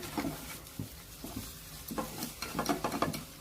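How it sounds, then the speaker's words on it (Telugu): A spoon stirs fish pieces through mango curry gravy in a pan, making soft, irregular scraping and wet squelching strokes with a faint sizzle underneath. The strokes grow busier toward the end. "ఈ గ్రేవీ అంతా ఈ పీసెస్కి పట్టేలాగా తిప్పేసుకుందాం"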